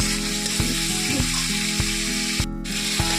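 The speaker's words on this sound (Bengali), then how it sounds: "ততক্ষণ এটাকে ভালো করে ভেজে নেব, টমেটোটা নরম হওয়া পর্যন্ত।" Onion, garlic, ginger and tomato fry in a pan with salt, giving a loud, continuous close-up sizzle marked by regular clicking knocks of a spatula stirring roughly every half second.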